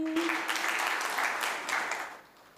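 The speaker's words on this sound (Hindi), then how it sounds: "यहाँ ताली वाली बजानी पड़ती है" An audience claps along at a comedy song performance, a brisk continuous burst of applause that swells and then tapers off toward the end.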